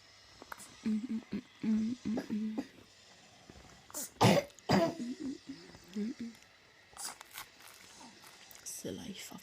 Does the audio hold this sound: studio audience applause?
no